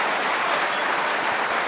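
Snooker crowd at the World Championship final clapping warmly, a dense, even ripple of applause filling the hall for a brief moment with no voices over it.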